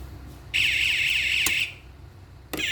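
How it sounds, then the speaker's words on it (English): Fire alarm on a custom 24VDC Bosean panel sounding during a test: a loud, steady electronic tone held for about a second, then cutting off, with a brief click and the tone starting again at the end. "now let's perform back the fire alarm."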